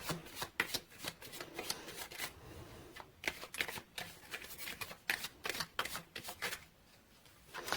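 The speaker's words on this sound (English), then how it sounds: "So let's pull few cards to clarify situation from Gildred" Tarot cards are shuffled close by in a rapid series of soft riffling flutters and slaps, quiet and steady with brief pauses.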